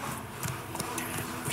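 Horse hooves clip-clopping in The Witcher 3: Wild Hunt, a brisk, evenly spaced string of hoof beats over a steady background bed, moderately faint.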